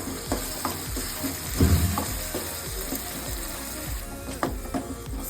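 Ground garlic and green chili paste cooks in a pan for spicy soya chunks masala fry, a close sizzle with repeated scraping stirs and clinks of a spoon against the pan, no talking.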